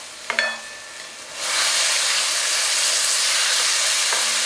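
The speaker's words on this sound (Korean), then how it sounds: "야채들과 건고추까지 넣어주셨으면 천천히 볶아볼게요." Vegetables and dried chili for seafood jjamppong tossed into a hot pan after a couple of utensil clinks, then a loud, steady, close stir-fry sizzle that holds to the end, no speech.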